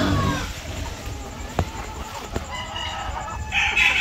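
Chickens in a breeding pen cluck and crow close by, with short squawks and a couple of sharp knocks over a noisy background, fairly faint.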